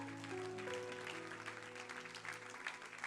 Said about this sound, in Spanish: si le vas a aplaudir al Señor, hazlo fuerte